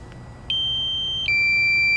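A DJI Mavic Pro drone sounds its low-battery warning at about 28 percent charge: a loud, steady electronic beep tone starts after a short quiet moment, breaks off briefly, then resumes and holds.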